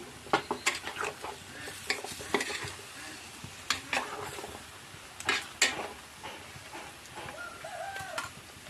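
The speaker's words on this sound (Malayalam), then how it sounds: "ഇതിലേക്ക് കുറച്ച് തൈര് ഒഴിച്ച് കൊടുക്കാം കൂട്ടി ഇളക്കി യോജിപ്പിച്ചിട്ട്" A spoon stirs curd into snake gourd aviyal in a pan, making irregular scraping clinks and soft sizzles. Faint bird chirps sound in the background and no one speaks.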